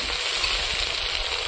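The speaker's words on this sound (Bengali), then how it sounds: "তেল গরম হয়ে গেছে, তেজপাতা, মরিচ, পেঁয়াজটা আমি একসঙ্গে দিয়ে দিলাম।" Bay leaf, dried chili and onion sizzle in hot oil in a village kitchen, a steady close hiss and crackle with no voices.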